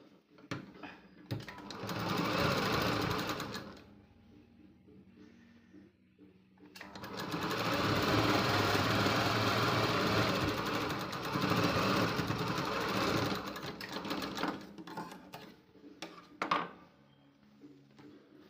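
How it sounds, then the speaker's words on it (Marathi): A sewing machine stitches a strip onto a blouse in two close, loud bursts of rapid whirring, a short run and then a longer one, separated by near silence and ending with a faint clunk. "त्याच्यावरती आपल्याला ही अशा पद्धतीने ही पट्टी ठेवून ह्याच्यावरती एक टीप मारून घ्यायची आहे."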